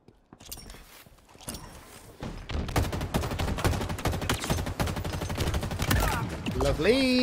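Halo Infinite firefight gunfire rattles in quick rhythmic bursts after a quieter start, becoming dense and sustained, loud and close, with a brief rising electronic tone at the end.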